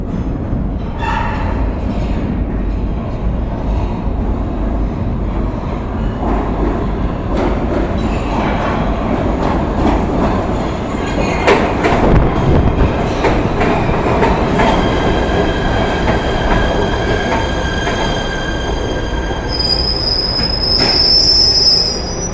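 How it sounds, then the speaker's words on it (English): A PATH subway train between New York and New Jersey rumbles loudly through tight tunnels, its wheels grinding steadily and then rising into shrill, sustained metallic squeals toward the end. "the Port Authority Trans-Hudson trains running between New York and New Jersey"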